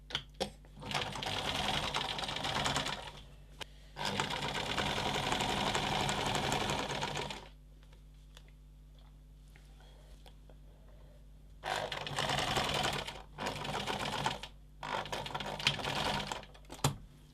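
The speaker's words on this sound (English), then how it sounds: "Right, now we're ready to machine it." A sewing machine stitches a cotton apron dress in several bursts of rapid, steady whirring, each a few seconds long, separated by quiet pauses, close and fairly loud with no talk.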